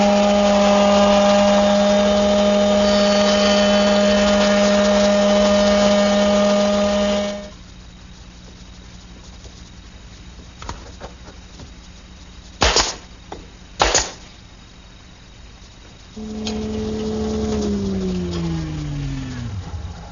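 A router shaper table with a 1/4-inch bead cutter mills one edge of 1/4 by 1-1/8 inch wood stock. A loud, steady motor whine runs at first, then goes quiet apart from a few sharp knocks, and the motor starts again and winds down.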